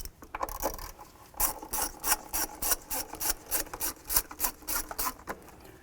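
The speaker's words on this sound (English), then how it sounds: "Loosen this clamp as well." Intake hose clamp being loosened at the throttle body of a 2007-14 Cadillac Escalade: a close run of quick, rhythmic ratcheting clicks and rasps.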